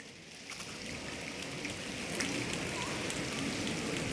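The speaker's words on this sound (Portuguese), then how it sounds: "Pode continuar a chuva." Rain sound effect played during a stage performance of a church play about Martin Luther, a steady hiss of dense falling drops that swells slightly louder midway and continues evenly throughout.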